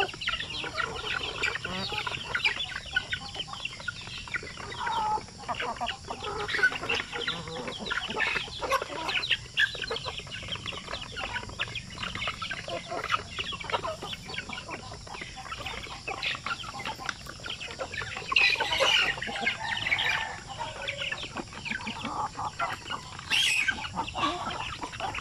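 Chickens clucking in a farm range area, a steady scatter of close clucks and soft calls from several birds over a low outdoor background, with a couple of louder squawks near the end.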